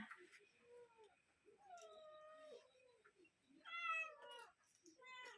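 Pet cats meowing at home: several separate drawn-out meows, some rising and falling, a few overlapping, close and clear against a quiet room.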